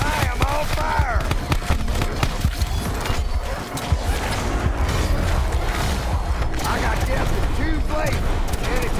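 A massed musket volley fired on command in a realistic-mode war game, loud dense crackling gunfire with mechanical clatter continuing throughout over battlefield noise and voices.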